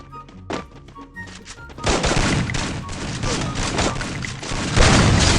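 Gunfire in Free Fire, a battle royale shooter, starts with a few isolated shots and then becomes loud, dense bursts of rapid shooting and thudding impacts, with a heavy blast near the end.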